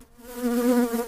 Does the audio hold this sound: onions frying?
no